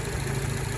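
Steady idle from an Acura TSX fitted with a custom exhaust, a low continuous rumble that holds even and unbroken through a short stretch, close and moderately loud with no voices over it.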